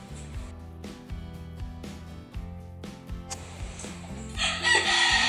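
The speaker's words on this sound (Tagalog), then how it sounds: "Ayun, manok." A rooster crows several times in succession, loud and near, with harmonic calls repeating in a steady rhythm before noisy rustling rises at the end.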